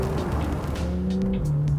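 A Porsche 911 Targa 4 GTS engine revs hard toward high rpm under full acceleration, a loud, continuous, rising growl with a faint tire-noise edge.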